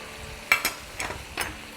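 Red chilli powder, Kashmiri chilli and garam masala are stirred into a sizzling pan for chicken biryani, with three or four quick scraping strokes over a low, steady sizzle.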